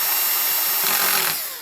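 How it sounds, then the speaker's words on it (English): A spare cordless drill on its lowest torque setting drives a parf reamer, giving a steady loud whirring buzz that runs continuously before trailing off at the end. "this is a spare, totally redundant drill now, on its lowest torque setting"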